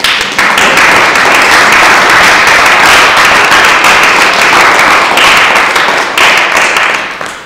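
An audience at an award ceremony for a volunteer guardianship association applauds loudly and evenly, dense clapping filling the whole stretch before tapering off at the very end.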